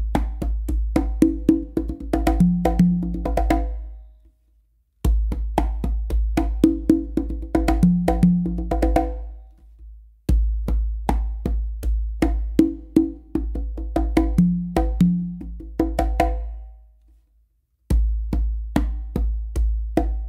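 Congas play a dynamic syncopated exercise, crisp slaps and open tones in a busy repeating pattern, heard alone in several phrases separated by short pauses.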